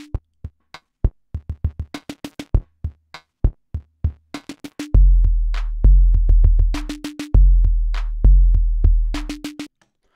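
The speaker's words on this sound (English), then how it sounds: "So beat repeat is a really cool delay type effect that's built into Ableton" Rhythm loop in Ableton Live processed by the Beat Repeat effect: crisp percussive hits and a tonal stab repeat in stuttering bursts, with deep booming bass hits joining halfway, a loud, dry, steady pattern with no voices.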